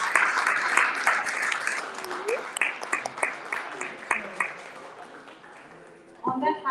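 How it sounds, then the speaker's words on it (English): Audience applause for young singers at a Margazhi festival performance, fairly light with distinct individual claps tapering off, before a voice begins speaking. "Let's all give a big round of applause for the kids."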